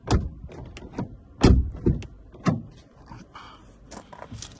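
A used VW e-Golf's door opens at close range in a series of sharp mechanical clunks and latch clicks, with softer rattles and handling noises between them and no talking.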